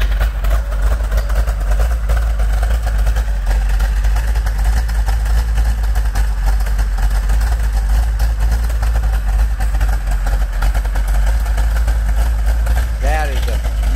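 A 1970 Plymouth Cuda V8 with an aggressive camshaft idles steadily and loudly close by, a continuous deep rumble holding for the whole stretch.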